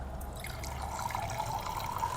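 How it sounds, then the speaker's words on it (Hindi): Water is poured into a drinking glass held in one hand, a soft continuous trickle and fill with a gently rising tone, quiet and close, with no talk over it. "अब इसमें पानी हम भर लेते हैं।"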